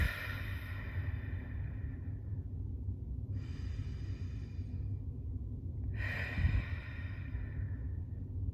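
Slow, deep breaths during a guided mindfulness exercise: three long airy exhales and inhales, close and steady, each lasting a few seconds with pauses between them.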